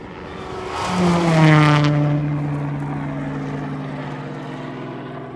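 A rally car on a 2012 Oregon Trail Rally stage approaches fast, its engine note rising to a loud peak as it speeds past, then drops in pitch and fades into the distance.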